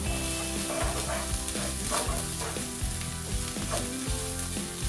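Browned beef mince sizzles loudly in a hot pan as tomato puree is stirred through, with repeated scraping strokes of the spoon over constant frying crackle.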